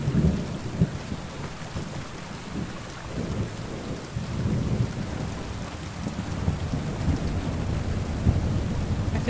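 In Kingdom Come Deliverance II, a thunderstorm brings steady, dense rain across open country with wildflowers and thistles, and low thunder rumbles rolling beneath it, with no voices.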